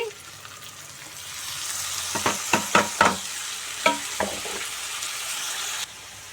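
Tomatoes tossed onto fried onions sizzle in a pan for a small-prawn curry, a steady low hiss broken by a quick series of sharp spoon scrapes and clacks as they are stirred.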